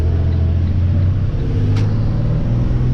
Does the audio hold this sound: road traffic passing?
yes